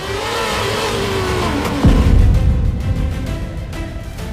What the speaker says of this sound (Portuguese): ele tocou a roda traseira da Sauber e o carro de Gutierrez foi lançado pelos ares